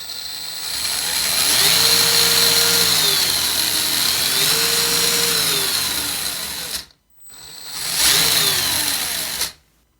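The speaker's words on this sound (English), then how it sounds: "let's listen to these new gears" Gen8 airsoft gearbox fitted with new steel gears, stock motor and stock pinion on a 3S battery, whirring in long sustained bursts with rising and falling pitch, close and loud, cutting off briefly before another burst.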